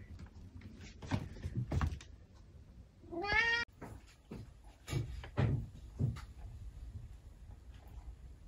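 A cat gives one clear, close rising meow amid scattered knocks, thumps and rustling indoors.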